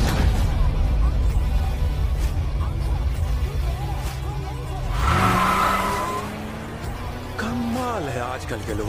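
A car brakes hard and its tires skid and squeal on the road, loud and close, with engine noise throughout. The screech rises in the middle and trails off near the end.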